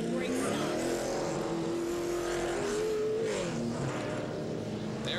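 NASCAR race truck in a 2001 Chevy Silverado 200 driving down pit lane, a steady engine drone with a rising and falling pitch sweep, fairly close, with faint background noise and no clear talk.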